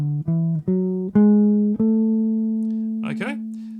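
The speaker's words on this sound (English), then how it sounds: "Let's see what A melodic minor sounds like." Jazz guitar plays the A melodic minor scale ascending, five or six single notes picked one after another with the last ringing out long, followed by a brief spoken voice at the end.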